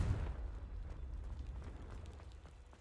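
A Confringo blast spell in Hogwarts Legacy erupts with a deep boom at the start, then a rumbling, crackling tail that slowly fades, faint and alone.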